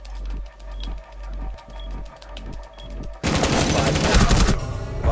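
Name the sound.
gunfire in a bomb-defusal video game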